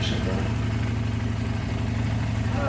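A motorcycle's exhaust rumbles at idle nearby during a test ride of a Yamaha Niken, a steady low pulsing drone that carries on evenly throughout.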